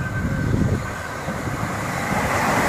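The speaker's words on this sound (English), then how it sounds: "That is the 1513 Southeastern's high-speed service to St. Pancras International via Margate" A Southeastern Class 395 high-speed train passes Smarts Crossing at Rainham, producing a close, steady rumbling roar with wheel and rail noise throughout.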